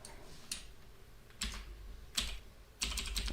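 Computer keyboard keys clatter as Java code is typed in the IntelliJ editor, coming in short quick clusters of clicks with pauses between them, close and fairly soft, with no talking.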